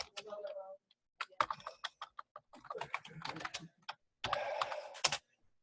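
Bursts of typing clatter on a computer keyboard as a command is entered, quick clustered keystrokes separated by short pauses, near and fairly quiet.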